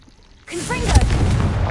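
A fire spell blast from the video game Hogwarts Legacy erupts after a brief quiet, a loud broadband burst with crackling, whooshing tail that sustains to the end, with faint voice-like tones mixed in.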